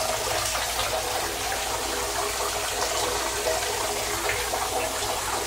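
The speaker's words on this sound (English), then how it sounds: "See, like half my water is still coming out. I'm not getting the full water pressure here." Water runs from a tap into a bathtub at reduced pressure, a steady, unbroken gushing and splashing that stays close and even throughout, with no voices.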